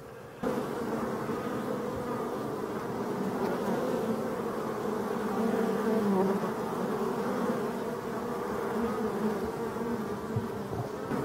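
Honeybees buzz continuously around their hives in a dense, steady hum, close and moderately loud, with no voices.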